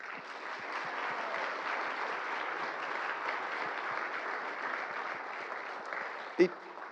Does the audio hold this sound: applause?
yes